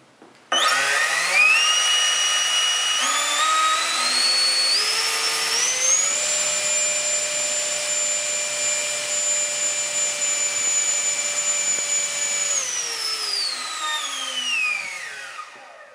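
A Change Sun 12-bladed 900kv ducted fan on a 12s battery spins up with a rising whine, holds a loud steady high-pitched roar with strong tonal harmonics for several seconds, then winds down; no talk.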